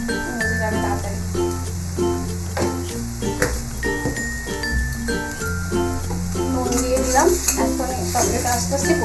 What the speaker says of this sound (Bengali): টমেটোটা আস্তে আস্তে কষিয়ে নেব আমি এর মধ্যে।